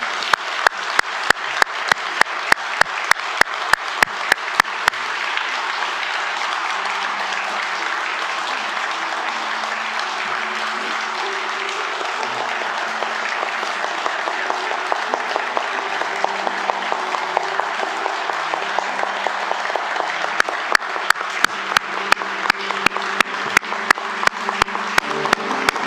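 Sustained applause from a congregation at a church elder ordination service in Frankfurt, steady dense clapping filling the room for the whole stretch with no speech over it.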